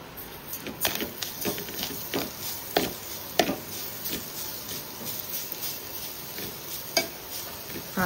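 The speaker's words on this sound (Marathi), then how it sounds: "नारळ टाकलेला आहे किसलेला आणि त्याच्यामध्ये साखर टाकूया आणि व्यवस्थित मिक्स करून घेऊया" Grated coconut and sugar being stirred in a pan with a spoon for ukadiche modak filling, giving soft irregular scraping and scratching strokes with occasional sharper scrapes, close and fairly quiet.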